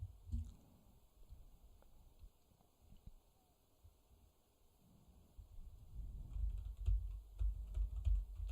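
Keystrokes tapping on a computer keyboard during Hancom typing practice, soft and scattered at first, then growing into denser, louder typing toward the end.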